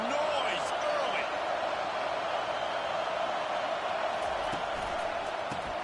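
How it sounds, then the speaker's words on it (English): A football stadium crowd keeps up a constant roar, a broad, steady wall of noise with scattered sharper thumps and bursts, heard from within the stands, with no distinct voices rising above it. "This crowd bringing the energy and noise early"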